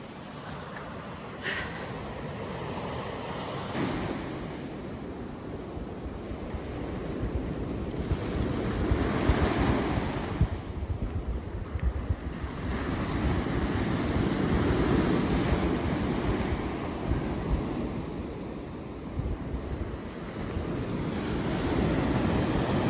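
Black Sea waves wash continuously onto the shore in Odesa, a full, close surf roar that swells and eases in slow surges, mixed with wind buffeting the microphone and no voices.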